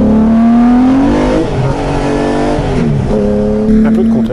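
A Porsche 964-based sports car engine revs hard and loud up close, the pitch climbing, dipping and rising again in sustained bursts of throttle.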